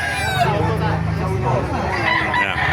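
A rooster crows at a chicken market in Baliuag, Bulacan, a loud, near crow holding steady for about a second, with other birds and market babble around it and people talking.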